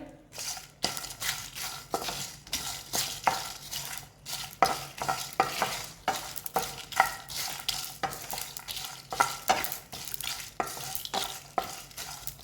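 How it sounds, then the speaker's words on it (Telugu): Whole spices dry roast in a pan without oil over low heat for Chettinad biryani, a spoon or spatula stirring and scraping them in a repeated, close, rhythmic rattle. "ఒక 5-10 నిమిషాలు స్లోగా పెట్టుకొని ఇట్లా ఫ్రై చేసుకోవాలి."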